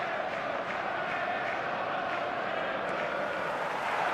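A stadium crowd in the video game eFootball 2026 roars as a steady, dense wash of noise that holds at an even level throughout, with a commentator's voice running over it.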